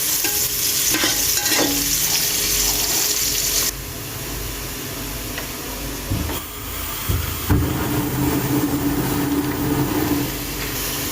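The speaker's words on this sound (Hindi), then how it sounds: "हम चॉप किया हुआ बिल्कुल बारीक साइज में कटा हुआ प्याज ऐड करेंगे और इसको 2 मिनट के लिए भूनने।" Finely chopped onion fries in a pan for pasta, a steady loud sizzle with stirring scrapes throughout, the hiss easing partway through as the frying carries on.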